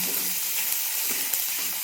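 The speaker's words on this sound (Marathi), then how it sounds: "घातले जिरे मोहरीची फोडणी घेऊन" Cumin and mustard seeds sizzle in hot oil as a tempering for a dry ridge gourd dish, a loud, continuous crackling fry heard up close and alone.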